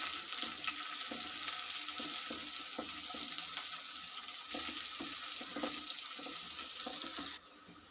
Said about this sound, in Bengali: আমি পেঁয়াজ আর রসুনের কুচিগুলো একটু হালকা ব্রাউন করে ভেজে নেব।